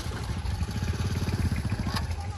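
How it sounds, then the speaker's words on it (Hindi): A motorcycle engine running close by, its low rhythmic putter steady throughout with a voice nearby, in a village setting. "ले आया मोटरसाइकिल हमारी,"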